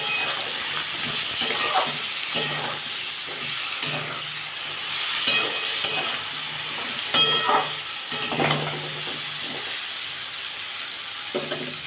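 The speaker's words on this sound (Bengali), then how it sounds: "এখন বন্ধুরা এই বেগুনটা তেলের মধ্যে দিয়ে দিয়েছি এবার এটাকে আমি ভাজবো" Chopped brinjal salted with turmeric frying in hot oil, a steady hissing sizzle broken by repeated clacks and scrapes of a spatula stirring the pieces around the pan, no talking.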